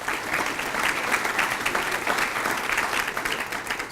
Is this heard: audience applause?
yes